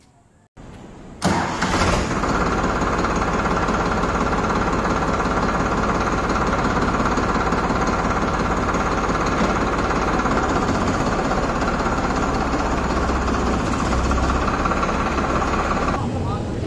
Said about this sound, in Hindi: अब चलिए मैं आपको इस ट्रैक्टर की आवाज़ सुनवा देता हूँ